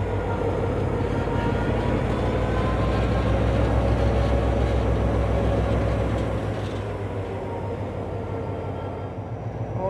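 Tren a las Nubes passenger train rolling across a high bridge near San Antonio de los Cobres, a steady low rumble and rattle of wagons with broad noise that holds level, then eases slightly toward the end.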